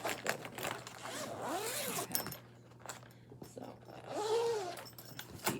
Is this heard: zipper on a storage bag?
yes